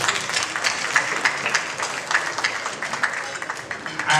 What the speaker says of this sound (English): So I want to first give them a round of applause.